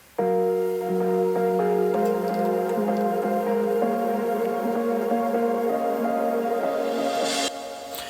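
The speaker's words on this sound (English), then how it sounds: "Just some kind of atmosphere, a little bit of plucks" An atmospheric synth sample from a Splice pack, with soft plucked tones over a sustained pad, plays steadily and fairly loud for about seven seconds before thinning out at the end.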